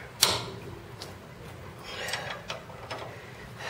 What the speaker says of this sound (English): This is my 1/2 inch drive wrench. Here. Loosening.